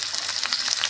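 Chopped tomato drops into hot oil with frying ginger in a pan, a bright close sizzle crackling steadily for a brief moment.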